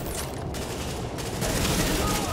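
Dense, rapid gunfire from a shootout in The Division video game while shooting at a barrel, a continuous rattling burst at steady loudness.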